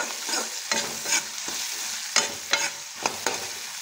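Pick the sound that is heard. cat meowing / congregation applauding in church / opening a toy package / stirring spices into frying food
stirring spices into frying food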